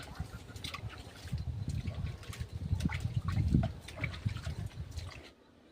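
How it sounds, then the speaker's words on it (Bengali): Water is thrown onto a mud house wall in the Sundarbans to wet it, making loud, close, sloshing splashes and gurgles in quick irregular bursts that stop abruptly at the end. "আগে দেওয়ালটা জল দিয়ে ভিজিয়ে নিচ্ছি নিলে সুবিধা হয়"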